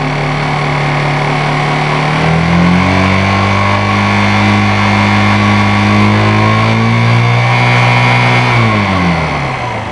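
A Honda CG 125 Fan motorcycle engine with an electrical fault, held above 3,000 RPM during a battery charging test, revs loud and close, its steady drone rising and falling in pitch across the whole stretch without any talk.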